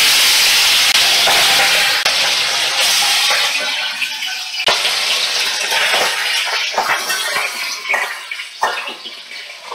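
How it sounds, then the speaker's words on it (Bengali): Pabda fish drop into hot oil in a wok with a loud, close, hissing sizzle that slowly calms into scattered crackles and pops. "কড়াইয়ে তেল গরম হয়ে গেছে, আমি পাবদা মাছগুলো এবারে ছেড়ে দেব"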